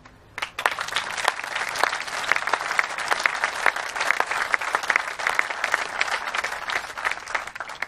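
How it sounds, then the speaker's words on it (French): Sustained applause from an audience at a company's 40th anniversary speech opening a training centre, dense steady clapping filling the room from start to finish without speech. "Je pense que vous pouvez vous applaudir"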